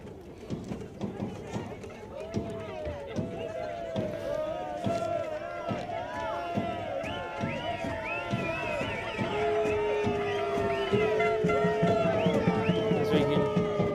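A crowd at a Southern League football match between Christchurch United and Coastal Spirit makes a steady, dense roar that swells in the final seconds, with overlapping shouts and calls from many supporters.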